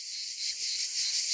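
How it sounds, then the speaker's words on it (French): Cicadas buzzing high in the trees in a continuous, steady, shimmering chorus, moderately loud and unbroken, with no voices. "J'essaye de voir si on en voit des cigales de près"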